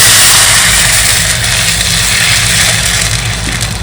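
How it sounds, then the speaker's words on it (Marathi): A kitchen chimney exhaust hood runs with a loud, steady low whir and rushing airflow, constant from start to finish with no talk. "मग चिमणी लावते, चिमणीचा आवाज येईल."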